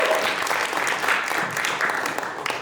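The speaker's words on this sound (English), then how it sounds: "Everyone give Jalali a round of applause" An audience at a community forum applauds Jalali with steady, even clapping throughout, moderately loud and without talk.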